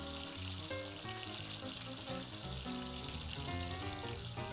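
Meatballs fry quickly in hot oil, giving a steady, dense sizzle that stays even and close throughout, with no talk.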